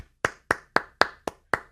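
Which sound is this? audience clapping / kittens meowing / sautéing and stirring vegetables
audience clapping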